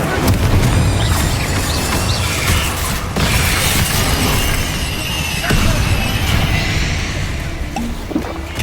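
Confringo fire-blast spells going off in Hogwarts Legacy as a dense, loud run of explosive booms and crackling bursts that hardly lets up, with a sharp blast near the three-second mark.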